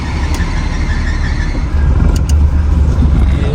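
A Lamborghini engine idling steadily after start-up on a narrow street in Lahore, a continuous loud low rumble with a brief squeal partway through and no talking.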